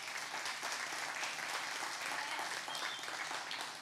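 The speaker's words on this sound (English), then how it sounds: "That is why we clap." A church congregation claps together in a continuous, even burst of applause that holds steady for several seconds, with no talk over it.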